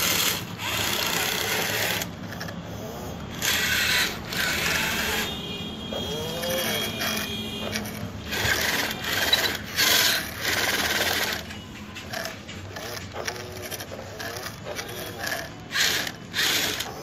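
Remote-controlled garbage-collecting machine mopping a floor with a rotating mop head: a continuous mechanical whir with rapid ratcheting clicks and intermittent grinding bursts, close and fairly loud, with no talking.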